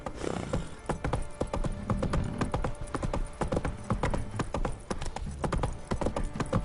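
Roach the horse clip-clops along in The Witcher 3, with quick rhythmic hoofbeats on firm ground that are close and clear and run without pause throughout.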